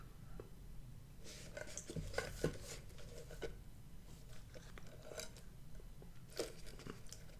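Pringles BBQ flavored potato crisps are eaten close up in a quiet room, making sharp, intermittent crunches and bites that settle into softer chewing, with brief pauses between mouthfuls.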